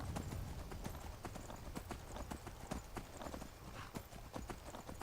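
Hooves of a borrowed horse clip-clop steadily in Skyrim, a rapid, close and continuous rhythm over a loud ambient bed of in-game sound.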